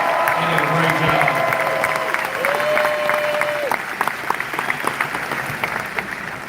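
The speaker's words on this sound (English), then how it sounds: "Y'all please give them a round of applause." A large crowd at a Trump rally in Macon, Georgia applauds with dense clapping and cheering, a sustained tone sounding through it and a few scattered claps continuing as the noise eases.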